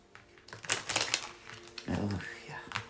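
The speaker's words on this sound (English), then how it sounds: "These cards are so slick. They slide. They're really cool, but they slide everywhere. One more shuffle here." Slick, slippery tarot cards shuffled by hand produce quick, crisp riffling clatters in short bursts, close up, while a person speaks over them.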